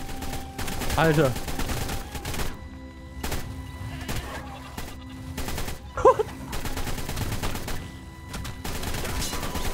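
Gunfire in ARK: Aberration comes as scattered sharp shots and short bursts among creature cries and game noise, with excited talk over parts of it.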